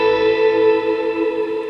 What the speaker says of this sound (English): my ambient type tone, because my reverb's always on, I run a plex delay, which is the plex verb